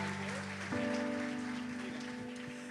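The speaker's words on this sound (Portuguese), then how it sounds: "Aplauda ao Senhor" A church congregation applauding during a worship service, a steady dense patter of clapping with a sustained organ or keyboard chord ringing underneath throughout.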